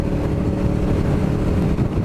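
Five motorcycles, one of them a Suzuki GSX-R, riding together on a road near Burragorang, giving a steady, loud, low engine drone with wind rush throughout and no talking.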